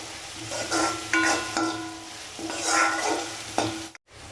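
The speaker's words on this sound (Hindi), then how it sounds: "तो लहसुन और प्याज को हमने अच्छे से भून लिया है।" Garlic and onion sizzle as they fry together in a pan over high heat, with a spoon scraping and stirring in repeated strokes up close, and no one speaking.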